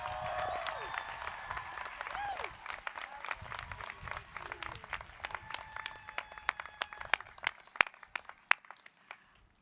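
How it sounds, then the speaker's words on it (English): Audience applause at a college commencement ceremony, a long burst of dense clapping from a large crowd that thins out into scattered individual claps toward the end, with some voices under it. "Let's give him one more round of applause."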